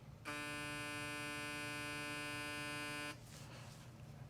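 Instinct X hair clipper running for just under three seconds, a steady nearby electric buzz with a smooth high whine, cutting off sharply to quiet room noise.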